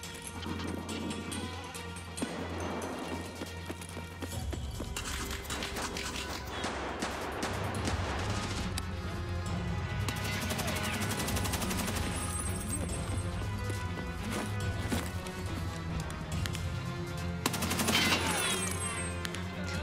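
Gunfire from Escape from Tarkov during a chaotic PvP fight with guards, dense bursts and crashes layered over a continuous game soundtrack, loud and sustained for the whole stretch.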